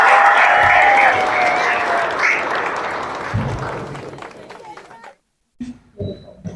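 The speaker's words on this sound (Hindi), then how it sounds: "एक बार दर्शन मैम के लिए जोरदार तालियां।" Loud, dense applause from a crowd at an academy welcome celebration, gradually thinning out and stopping, followed by a few brief voices in the quiet.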